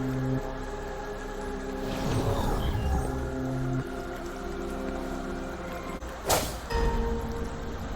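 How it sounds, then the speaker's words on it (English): In the game Wuthering Waves, a bell rises out of water with a deep, sustained metallic ringing drone, rushing water swelling in the middle and a bright splashing burst near the end. "A bell just raised out of the water."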